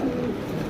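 White beauty pigeons give a brief, low, soft cooing close by in a quiet setting.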